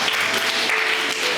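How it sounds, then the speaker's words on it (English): A school audience claps to welcome young readers at a school event, a dense burst of applause from many hands that fills the room evenly and loudly for its short length. "Let us welcome our young readers with loud cheers."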